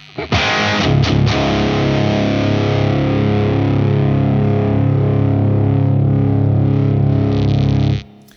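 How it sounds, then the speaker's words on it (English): A loud, heavily distorted high-gain electric guitar chord through an Origin Effects Revival Drive Hotrod Edition overdrive rings out after a couple of quick strums, sustaining with thick saturated buzz for several seconds before cutting off. "So this is my sort of high gain sound."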